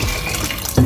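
Water poured into a pressure cooker for cooking haleem with lentils, wheat and barley, a brief close splashing gush.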